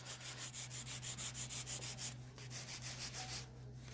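A pink diamond nail drill bit files a nail with a steady, rapid rhythmic rubbing and grinding, about a dozen pulses repeating evenly over a constant low motor hum, close and moderately quiet.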